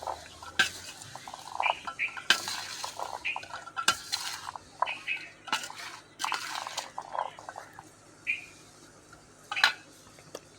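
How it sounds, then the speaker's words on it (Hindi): Chana chaat being stirred with chaat masala in a bowl, a spoon clinking and scraping against the dish in short irregular bursts, close and fairly faint. "तो मसाला मिक्स कर लेते हैं एक बार"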